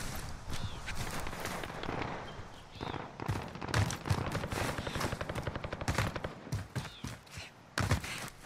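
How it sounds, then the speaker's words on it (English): Rapid assault rifle fire in Call of Duty Warzone, with dense bursts of close gunshots repeating through the whole stretch, broken only by short pauses. "Assault rifle."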